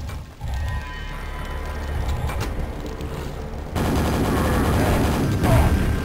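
Quake gunfire rattles in a steady, noisy barrage with mechanical clatter, growing louder and denser partway through, then holding at a constant roar to the end.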